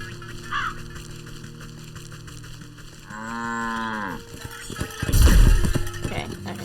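Cow in the video game Wytchwood gives one drawn-out low moo near the middle, fairly close, over soft game music, with a louder burst of sound shortly after.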